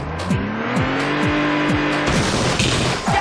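Car driving in The Getaway video game, an engine revving hard through repeated gear shifts with rising and dropping pitch, then tire squeal and a rougher roar toward the end.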